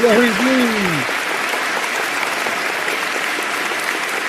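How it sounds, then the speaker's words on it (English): Prolonged applause sound effect, a dense and even wash of clapping that runs on steadily. A voice speaks briefly over its start, then the clapping continues alone. "that applause shit is mad long"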